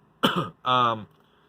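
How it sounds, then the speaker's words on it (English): Two short, harsh throat-clearing coughs close to the mic, the second longer and more voiced, then quiet. "Pardon me, I'm fighting a cough here."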